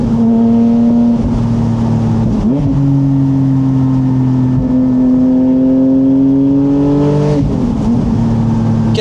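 A hybrid-converted Porsche Boxster sports car engine revs loudly and close, holding sustained tones that rise and dip as the throttle changes, with no talk over it.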